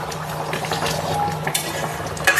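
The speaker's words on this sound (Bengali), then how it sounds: "ভালো করে নেড়ে চেড়ে।" Aloo dum with garam masala being stirred in a pan, a close spoon scraping and clinking against the metal amid soft bubbling, ending in a sharper clatter.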